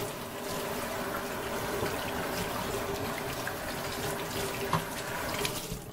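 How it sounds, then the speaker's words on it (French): Fresh water runs steadily from a kitchen tap as fish is rinsed in the sink, a continuous close splashing wash with small drips and knocks. No one speaks. "je rince avec l'eau fraîche"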